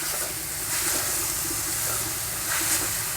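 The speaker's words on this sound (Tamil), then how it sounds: "சேர்த்துட்டு இதோட பச்சை வாசனை போகிற அளவுக்கு நல்லா வதக்கி எடுத்துக்கணும்" Grated radish sautés in hot oil with mustard seeds for a radish pickle, a steady close hiss and sizzle with faint soft stirring, no voices.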